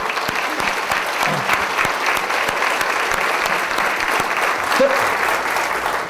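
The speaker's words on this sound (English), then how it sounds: "give yourself a giant round of applause for what you have done." Large audience at a school nurses' association event giving a big round of applause, thick continuous clapping filling the room at a steady, loud level.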